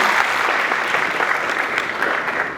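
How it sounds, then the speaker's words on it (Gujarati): Sustained audience applause at an annual function's stage programme, steady dense clapping from a large crowd that continues evenly throughout without pause. "આપણે ખૂબ તાળીઓથી દિનેશભાઈને વધાવીએ."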